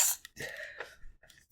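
A single short, breathy sneeze close to the microphone in a quiet room, followed by a brief pause.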